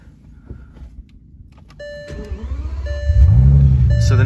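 Bentley Continental Supersports starting with a push button: a cabin chime, a brief starter whir, then the engine catching and rising into a loud, steady idle.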